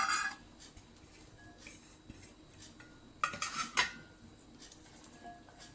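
Shredded cabbage, potato and onion mixed with flour in a bowl for fritters, with soft scraping and a few clinks of a utensil against the dish, brief and close with a louder burst midway.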